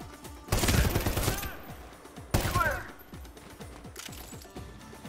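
Bursts of heavy gunfire in Medal of Honor: Warfighter, two loud rattling volleys over a continuous backdrop of distant battle shots, with a voice talking underneath.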